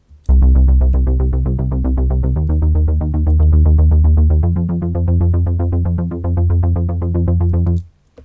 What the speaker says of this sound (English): So it's like this really fat synth sound,